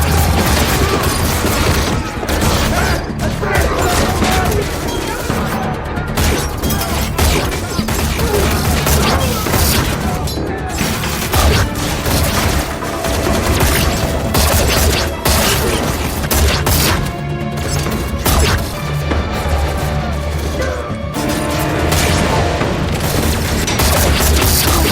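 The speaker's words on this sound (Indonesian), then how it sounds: "hingga aksi tembak-tembakan pun terjadi" A loud, dense barrage of gunfire and crashing impacts over a continuous thick rumble, with bursts overlapping through the whole stretch.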